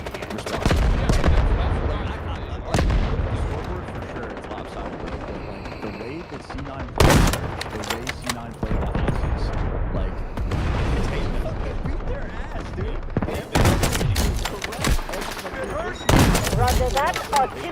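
Artillery barrage in a video game: repeated heavy booms and gunfire bursts, loud and close, with sharp impacts recurring every few seconds over continuous battle noise and some voices.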